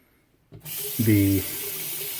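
A razor part is rinsed under a running tap: the water switches on abruptly and then runs in a steady close hiss. A short voiced sound rises briefly near the start of the flow.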